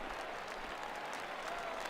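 Hometown crowd in the baseball video game MLB The Show 19 claps and cheers steadily on opening day, a dense, even wash of applause that holds throughout.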